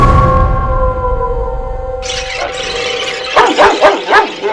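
A dog barks several times in a quick burst after a long, steady whining tone, sounding fairly close and loud.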